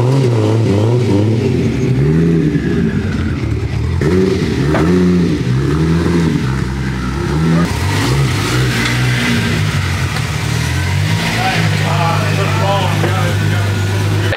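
A Toyota Supra on a dyno, its engine revving loud and close with rising and falling pitch sweeps, then settling into a steady high drone, while people talk over it.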